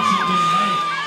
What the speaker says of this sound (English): The crowd being wonderful here tonight, fully behind all these athletes.